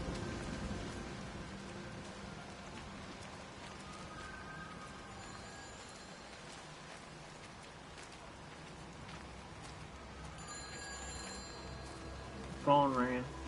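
A telephone rings in the video game Everybody's Gone to the Rapture, bright trilling bursts over steady rain, first faint midway and then louder near the end, with someone talking underneath.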